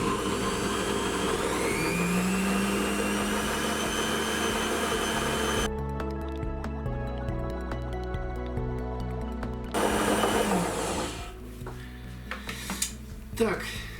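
Blender motor emulsifying beef for homemade sausages, its whine climbing in pitch and loudness as the speed is stepped up to maximum, then shifting to a rougher churning tone as the meat thickens; a voice speaks briefly.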